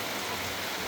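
Steady rainfall with a dense, even hiss of drops, continuous and fairly loud throughout a brief moment, with no other sounds.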